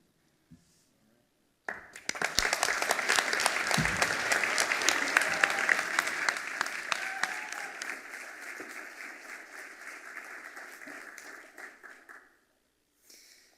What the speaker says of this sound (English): Can we have one more, a round of applause for these teams here?